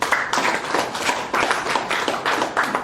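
An audience at a Yoruba-language gathering applauds, giving a dense, continuous burst of clapping with slightly pulsing rhythm, fairly close and loud throughout.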